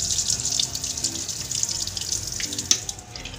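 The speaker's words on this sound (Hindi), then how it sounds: "तो एडवांस में छोले को धो लेंगे और फिर उबालने के लिए चढ़ा देंगे।" Tap water runs steadily into a sink while chickpeas are washed before boiling for chole, a constant close rushing stream with small splashes and one sharper clink near the end.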